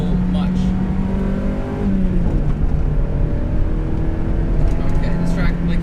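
A stock NA Mazda Miata on a race track drones close and loud as its engine pitch climbs, drops and recovers through downshifts, with road and wind rumble running underneath.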